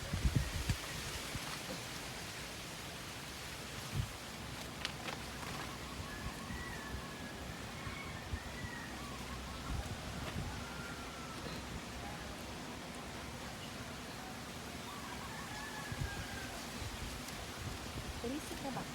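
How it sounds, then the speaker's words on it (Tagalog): Steady rainfall hisses throughout, a dense even patter with faint bird calls and occasional louder drops. "Ah, nagulan na."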